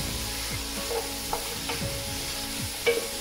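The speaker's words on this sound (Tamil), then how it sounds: "இந்த வெங்காயத்தை நல்லா வதக்கி எடுக்கணும்" Onions sautéing in a pan for Jaffna-style mutton curry, a steady sizzle with spoon scrapes and stirring strokes recurring every half second or so, close and moderately loud.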